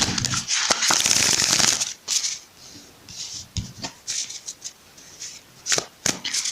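An oracle card deck being shuffled in quick riffling bursts, followed by a few softer taps and slides of cards, close up with no talking.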